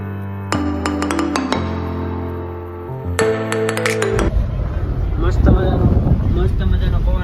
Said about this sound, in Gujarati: મસ્ત મજાનો પવન આવે છે એક નંબર